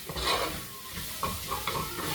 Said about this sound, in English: as you're frying that, because the spices, you just don't want it to burn